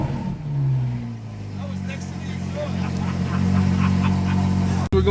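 A Ferrari F12 V12 engine idles with a steady low rumble and swells as it revs, sustained and close throughout, with people talking over it.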